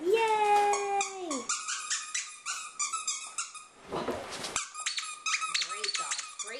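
A squeaky dog toy gives repeated sharp squeaks in quick bursts, close and fairly quiet, while a dog whines and someone talks over it.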